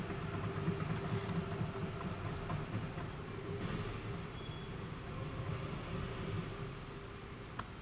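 A Ural truck with an idling engine sounds as it backs onto a pile: a steady low diesel rumble held throughout, moderately near, with a faint high tone and a brief click near the end and no talk.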